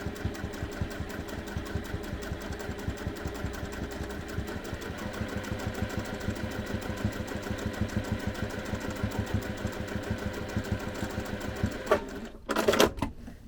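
Sewing machine running steadily while stitching a long fabric pocket on a case, a continuous rapid mechanical chatter that holds for about twelve seconds before stopping, followed by a couple of brief handling clunks.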